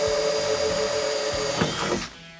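A power drill with a 15/64 bit boring a hole for an ARB rock slider on a Jeep Gladiator JT, a steady high whine that dips briefly, then stops abruptly near the end.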